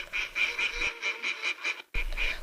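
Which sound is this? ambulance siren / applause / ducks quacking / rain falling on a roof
ducks quacking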